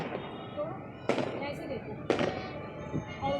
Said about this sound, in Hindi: ये आतिशबाज़ी जो है मुसलसल तकरीबन आधे घंटे तक होती रही है